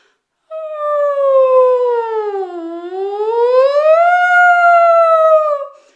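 A single human voice imitates a siren, holding a steady wail, dipping lower, then rising again before fading out after several seconds.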